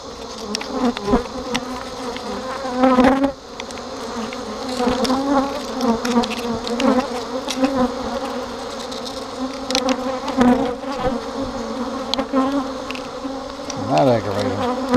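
Agitated honeybees swarm and buzz loudly while being brushed off a hive frame during a hive inspection, a dense continuous drone with rising and falling whines of individual bees passing close.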